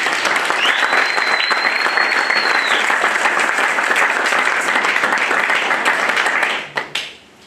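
A church congregation bursts into loud, sustained applause and cheers for Jesus, with a whistle rising over the clapping before it quickly dies away.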